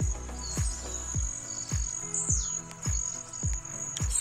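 Small birds sing and chirp outdoors in a rural spot near an abandoned bridge, high thin calls running steadily over a series of rhythmic low thumps, with no talking.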